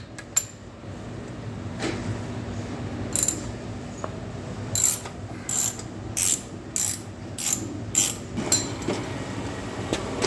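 A hydraulic pump being worked into place on a 1948 Ford 8N tractor, with faint metallic clicks and a series of sharp clanks that grow more frequent toward the end over a quiet shop background.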